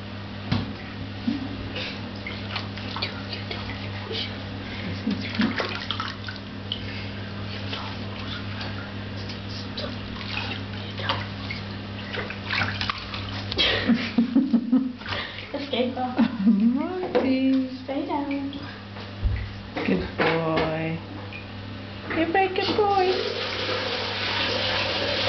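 A dog being washed in a home bathtub, with water sloshing and splashing at close range under a steady low hum, while adults and someone talk over it throughout.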